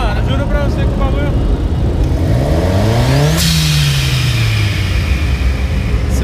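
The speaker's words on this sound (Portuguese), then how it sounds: "aqui tá com kit turbo. A turbina TL. É bonito esse barulho, né, mano?" A turbocharged car engine fitted with a TL turbo kit revs loud and close, pitch sweeping up and falling back with a turbo whine, while people talk over it.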